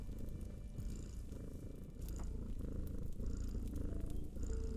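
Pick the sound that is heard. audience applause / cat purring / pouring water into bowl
cat purring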